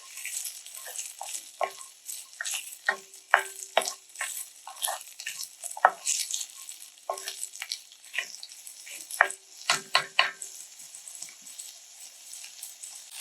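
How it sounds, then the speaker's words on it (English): Onions sauté in a pot for beef goulash, crackling and hissing under frequent quick spoon scrapes and clatters against the pot, close and busy, with no one talking. "We're going to saute them up for about a minute."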